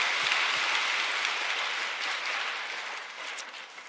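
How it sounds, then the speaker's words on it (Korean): Sustained applause from a church congregation during a Sunday worship service, a dense, steady clapping wash that fills the whole stretch and tapers slightly toward the end, with no talking over it. "하나님께 큰 박수로 영광을 돌리겠습니다"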